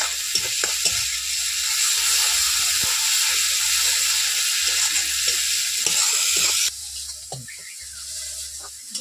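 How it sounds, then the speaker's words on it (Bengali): Spice paste sizzles in hot oil for a potol (pointed gourd) kofta curry. A steady, close frying hiss carries the occasional clink of stirring and eases slightly toward the end. "মশলাটা খুব ভালো করে কষিয়ে নেব।"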